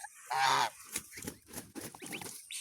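A goose gives a loud, nasal honk up close, followed by a run of shorter, quieter honks and gabbles from the geese.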